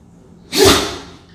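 One loud, abrupt sneeze close by, a single breathy burst that tails off quickly over quiet room tone.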